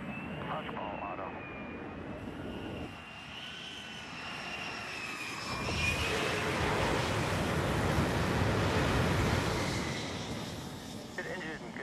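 An F-35B jet engine on an aircraft carrier roars and swells, growing louder and more intense midway through with a high whine over a broad rushing blast.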